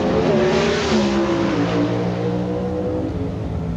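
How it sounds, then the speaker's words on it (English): Pro Stock drag racing cars scream at high RPM at the starting line, loud layered engine tones sliding and shifting in pitch, close and sustained with no pause. "the Pro Stockers raise the RPMs to the moon"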